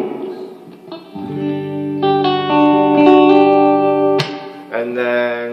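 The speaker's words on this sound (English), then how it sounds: "I have a pretty standard reverb too." Electric guitar with a standard reverb effect, sustained chords ringing out and blooming into one another, loud and close, with tails that hang and decay between changes.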